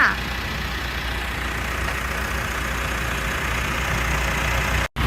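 The 2.4-litre diesel engine of a 2019 Mitsubishi Triton Plus Megacab pickup idles steadily up close, a constant low rumble that drops out briefly just before the end.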